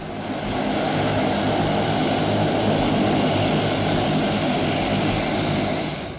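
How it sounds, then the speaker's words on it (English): Twin turboprop engines of a Kenya Air Force Dash 8 presidential aircraft run at a steady, loud roar with a faint tonal whine, holding evenly for several seconds with no voices. "This aircraft boasted advanced technology and twin fueling efficient turbine power plants."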